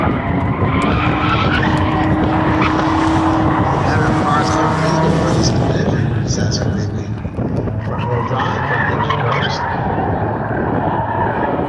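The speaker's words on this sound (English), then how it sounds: "The only Volvo I do believe we have in the field, that's with Brian King in green and white, number 86 machine." Front-wheel-drive Volvo race car on a qualifying lap at the Indianapolis Speedrome, engine roaring close with tires skidding and squealing through the corners, under an announcer's commentary.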